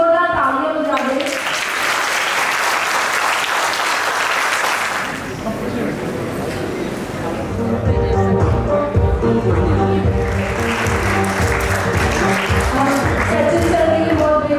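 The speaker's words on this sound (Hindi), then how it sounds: "मुझे ये बताइए कि यहाँ पे कितने लोग जोरदार तालियां बजा दे" An audience claps loudly at a company foundation day award ceremony, in two broad bursts of applause separated by a pause, with music playing underneath throughout.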